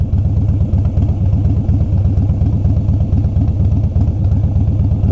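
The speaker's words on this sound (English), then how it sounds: "I don't think he likes the sound of my motorcycle though." A Harley motorcycle engine idles steadily nearby, a deep rhythmic low-pitched chugging that holds even throughout with no talking.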